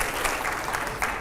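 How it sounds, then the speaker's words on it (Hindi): Loud, dense audience applause fills the room at a televised panel discussion with five editors and a Hindu spiritual speaker, steady and continuous with no voices over it. "आइए जरा बहुत जोरदार तालियां एक बार फिर से इस पर।"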